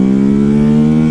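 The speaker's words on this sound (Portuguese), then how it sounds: "Mano, essa moto tem um torque absurdo, mano." A BMW 310GS motorcycle engine runs with the exhaust filter removed, a loud, steady mid-pitched drone with strong harmonic tone held at high revs, close and without talk.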